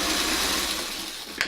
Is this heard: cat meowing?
no